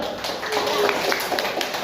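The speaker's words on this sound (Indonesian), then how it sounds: "tepuk tangan dulu" Children in a classroom clapping their hands together, a short patter of uneven claps close by, mixed with voices talking during the applause.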